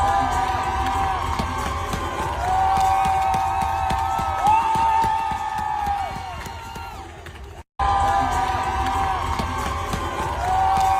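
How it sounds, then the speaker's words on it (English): A hockey arena crowd at a Devils game cheers and whoops loudly and steadily, a dense wash of voices with a brief cut near the end before the roar resumes. "the crowd goes wild with applause"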